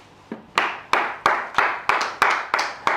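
Loud, crisp hand claps ring out in a steady, even beat to acclaim the Lord, about eight sharp claps close by, each with a short, fading tail, and no one speaking over them.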